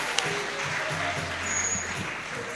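An audience at a Francophonie day and world storytelling event applauds children with continuous clapping, while voices talk over it.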